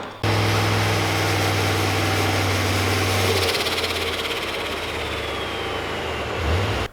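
Turbocharged V8 in a Holden VE SS running, a loud steady droning idle with a deep low hum that shifts to a rougher rumble partway through, close by, with no talking.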